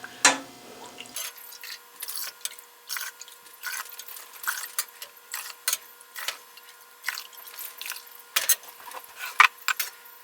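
Thick homemade yogurt dribbling slowly from an awkward, poorly pouring pot into jars, heard as soft intermittent drips and wet splats with faint clinks of glass, close and quiet, with no talking.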